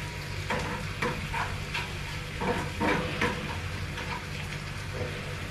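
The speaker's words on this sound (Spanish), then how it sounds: "Y mientras vamos a esperar que la cebolla se sofría muy bien." Garlic and onion sautéing in a pan over the lowest heat, a steady soft sizzle with faint stirring scrapes and light clinks close by, no talk.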